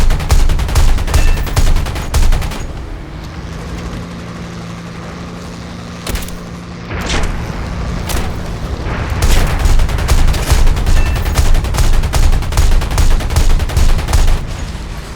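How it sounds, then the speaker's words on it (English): In War Thunder, anti-aircraft fire from ground targets shoots at a bomber. Loud rapid bursts rattle over a steady engine drone, pause briefly in the middle, then resume at full intensity. "our ground targets are shooting at this bomber"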